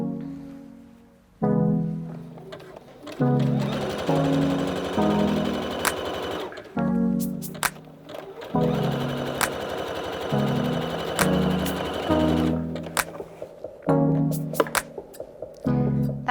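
A sewing machine stitches the side seam of a knit jumper in repeated runs of rapid mechanical whirring, close and loud, separated by brief stops and small clicks, with no talking.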